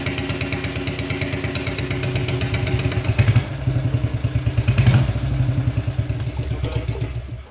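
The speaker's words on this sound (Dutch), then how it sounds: "Dit is een Horex Regina, een 400 cc 1 cilinder." Horex Regina 400 cc single-cylinder motorcycle engine running steadily nearby, a rapid loud thumping beat with mechanical clatter, holding a constant idle-like rhythm throughout with no talk.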